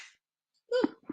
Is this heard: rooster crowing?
no